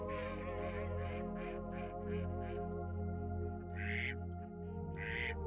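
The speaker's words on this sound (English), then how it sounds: "Water birds flock here in tens of thousands." A flock of water birds in Spain's Doñana national park gives a run of rhythmic calls, then a few sharper squawks, fairly distant over a low steady background.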